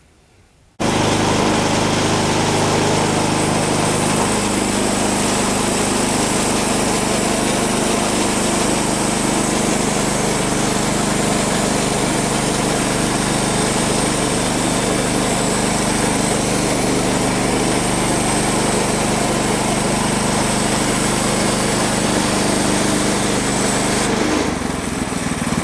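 A small engine-powered sawmill saws lumber close by, its high, steady engine whine droning loud and unbroken for over twenty seconds as the blade cuts, then dying down at the end.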